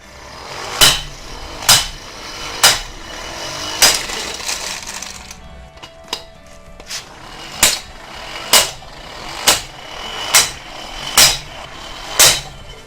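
Electric impact wrench driving a screw, a close run of about a dozen loud, evenly spaced hammering impacts with a brief pause midway, each blow standing out over a steady motor whir, and no talking.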